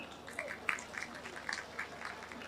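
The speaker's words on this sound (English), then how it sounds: "Please, can we put our hands of applause for them?" An audience at a fellowship conferment ceremony applauds. The clapping is faint and distant, a continuous patter with no voices over it.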